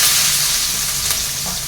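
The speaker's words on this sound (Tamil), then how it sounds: "ஃபஸ்ட்டு பச்சை மிளகா போடுறோம். அடுத்து வெங்காயம்." Green chilli and onion sizzle loudly in a pan on a stovetop flame, a steady close crackle with no talking.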